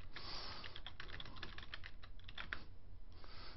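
Rapid, continuous clicking of keys on a computer keyboard, close and steady with brief pauses, as a search term is typed in.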